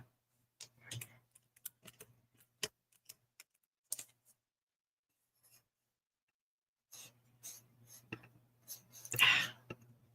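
Computer mouse clicks while working in cutting design software, scattered sharp taps spread irregularly across a quiet room, with a denser cluster of clicks near the end.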